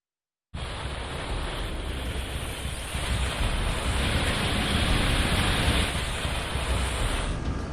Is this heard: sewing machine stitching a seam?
no